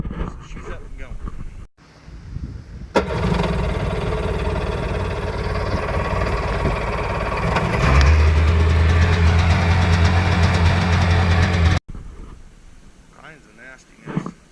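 A Sea-Doo personal watercraft engine fires up and runs with a loud, steady rough drone, revving louder partway through before cutting off, with talking before and after.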